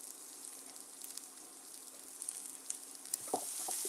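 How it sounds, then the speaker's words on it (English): Red pepper and red onion sauté in a hot pan with a steady, quiet sizzle and a few sharper crackles and pops toward the end. "So we're gonna let these kind of saute"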